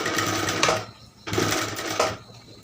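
A sewing machine stitches a trouser ticket pocket in two short whirring runs, each about a second long, separated by a brief pause. The sound is close and moderately loud.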